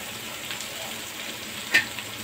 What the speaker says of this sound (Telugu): వేసి వేయించుకోవాలి.